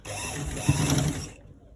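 A sewing machine stitches a V-neck in one short, close mechanical run that stops abruptly.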